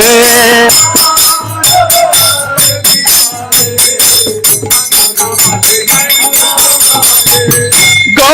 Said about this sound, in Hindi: राधा माधव आरती साजे शंख बाजे घंटा बाजे